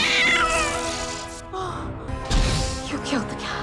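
A cat in a Doctor Who scene meows and yowls loudly several times in a row, with a rough, strained tone and a brief crash-like jolt midway.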